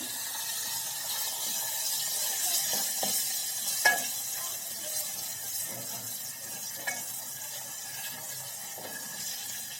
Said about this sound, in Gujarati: આપણું શાક વઘાર કરી લઈએ શાકનો.